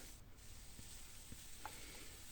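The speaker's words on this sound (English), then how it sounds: "While that's all frying off, give it a good mix and let those flavours develop." Soft, steady sizzling of spices frying in a pan, a quiet continuous hiss with a few faint stirring clinks.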